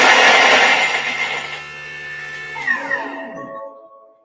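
Thermomix kitchen appliance chopping ingredients with a loud whirring motor burst that winds down, blades spinning to a stop, followed by a few electronic beeps.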